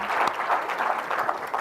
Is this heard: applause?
yes